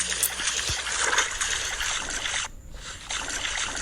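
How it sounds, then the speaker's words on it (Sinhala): Footsteps sloshing through water in the horror video game Granny, a steady wet splashing and trickling that runs continuously and fairly loud, with a brief dip partway through and no talking. "එනේ වතුර වල ඇවිදින සද්දෙට ග්‍රැනි එන්නේ නැද්ද බා?"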